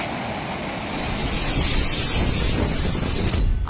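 Storm-driven sea waves roar along the Andhra Pradesh coast amid strong wind and rain, a loud continuous broadband wash with wind buffeting the microphone throughout.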